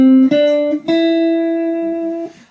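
An electric or acoustic guitar plays a short solo phrase, three sustained notes with clear attacks, the last held long before fading, close and alone.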